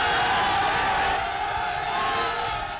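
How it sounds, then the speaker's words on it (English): Rapturous crowds in Berlin in 1931 cheer and roar as a dense, continuous wash of many voices, loud and sustained across the whole stretch, with no single voice standing out. "On his visit to Berlin in 1931, he was met by rapturous crowds."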